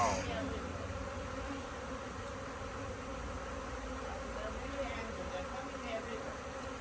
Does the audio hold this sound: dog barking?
no